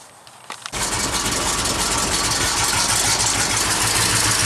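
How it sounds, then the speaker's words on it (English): An engine with an exhaust leak starts and settles into a steady, loud idle with a raspy, hissing exhaust note, continuous and close. "There's the exhaust leak down there."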